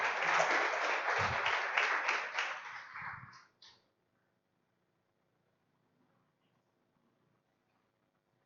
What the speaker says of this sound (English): So please give him a huge round of applause here.